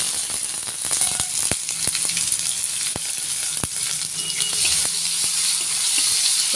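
Panch phoron, bay leaves and dried chillies fry in hot oil with a constant close sizzle, broken by sharp scattered pops and crackles.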